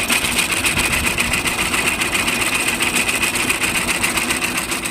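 A sickle-bar mower blade driven by a running T-25 tractor makes a fast, even, machine-like clatter over a steady engine drone. It stays loud and constant throughout, with no talk.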